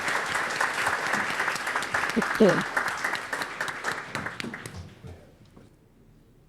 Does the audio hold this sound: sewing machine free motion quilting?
no